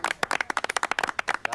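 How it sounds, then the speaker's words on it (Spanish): Hand clapping at a celebratory toast for a son's promotion, a brisk run of about a dozen sharp, evenly spaced claps from a small group, close and fairly loud with no talk over it. "Y voy a dar un aplauso, ¿no es cierto?"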